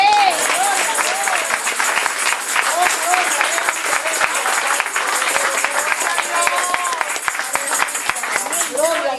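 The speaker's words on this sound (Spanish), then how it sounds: "Den un aplauso al Señor." A church congregation breaks into sustained applause, dense close clapping with some cheering and crowd noise running steadily throughout.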